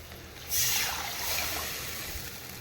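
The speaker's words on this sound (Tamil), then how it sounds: "நம்ம ரசத்துக்கு அரைச்சி வச்ச புளி உப்பு மஞ்சள் போட்ட தண்ணி ஊற்றிக்கலாம்" Tamarind, salt and turmeric water is poured into a pan of mudakkathan keerai rasam, starting suddenly and continuing as a steady splashing hiss, with no talking.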